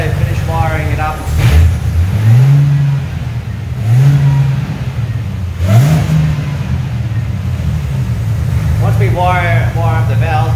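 A Holden Monaro CV6 revs through a new 3-inch exhaust with its valves closed, a mid-pitched engine rising and falling in several revs, loud and close, with people talking over and between the revs.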